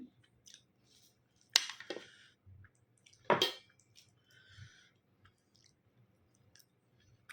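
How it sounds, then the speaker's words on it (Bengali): Someone bites into round slices of fried potato, two crisp crunches standing out against quiet, soft mouth and chewing noises, close and intimate. "আলু ভাজা করেছি, একটা খাবো।"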